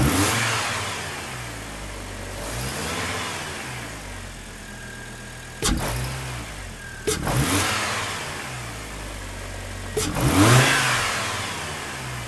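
A Hummer H3's 3.7-liter five-cylinder, fitted with an aluminum intake and aFe Pro Dry S air filter, idles and then revs in several short blips, each rising and falling sharply, heard clearly with no talking.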